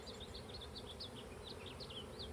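Honey bees buzzing on a hive frame during a swarm-prevention split, a steady close hum with many overlapping wingbeat whines darting above it, loud and continuous throughout.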